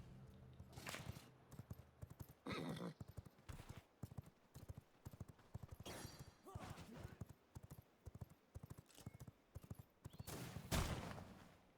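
Summoned horse steed in the video game V Rising, rapid galloping hoofbeats clip-clopping in a steady rhythm for several seconds, loud and close, with occasional sharper impacts and brief game sounds.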